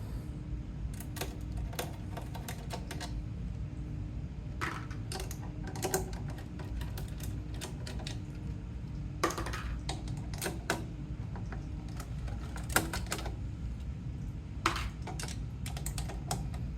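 A ratchet with a 7mm socket removes the bottom panel screws of a Quick Mill Vetrano 2B Evo espresso machine, giving bursts of quick, quiet clicking separated by pauses over a low background hum.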